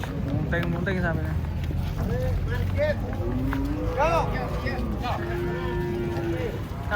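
Massive jumbo cows coming off a truck, several drawn-out moos, one long steady bellow near the end, heard over a noisy crowd with people talking and shouting.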